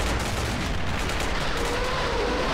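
Dense, continuous battlefield barrage of artillery fire and gunshots in an Army Men toy-soldier tank assault video game, a steady loud rumble of overlapping blasts with no clear pauses throughout.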